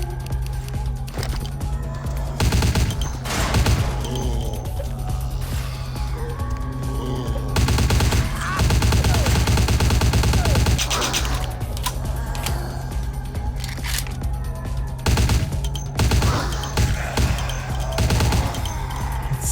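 A firearm in Vampire the Masquerade: Bloodlines fires repeated loud bursts of shots in irregular clusters, separated by quieter stretches of ambient game sound.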